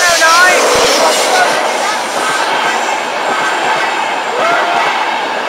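A train rushes past a rural level crossing, a loud, continuous rumbling roar with faint wheel squeal and rhythmic rail clatter holding steady close by, with brief talk underneath.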